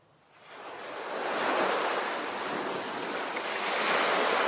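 Ocean waves washing onto a shore, a broad steady surf roar that swells up after a quiet start and holds strong and close throughout, with no voices.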